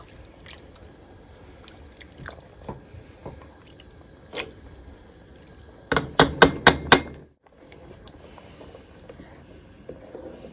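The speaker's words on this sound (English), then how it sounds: "Just using a potato masher to start mashing it all together to help the tomatoes break down properly." A potato masher works through hot tomatoes and beans in a pot, giving scattered soft wet squelches and then a quick burst of four or five sharp, louder squishing strokes close by.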